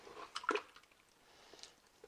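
Mutton roast with added water is stirred in a cooker, making faint, close, wet squelching sounds in a few brief bursts.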